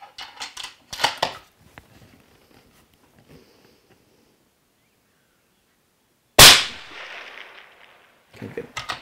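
Hunting rifle shots fired for a three-shot group: one loud, sharp crack with a fading tail stands out mid-way, with shorter, weaker bursts near the start and end, separated by quiet gaps.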